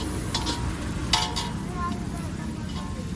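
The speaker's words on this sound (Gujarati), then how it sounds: "ધીરે ધીરે તાપે હલાવીશું આપણે." Moong pulao with tomatoes stirred in a pan over a low flame, with a steady soft sizzle and occasional clinks of a utensil against the metal pan.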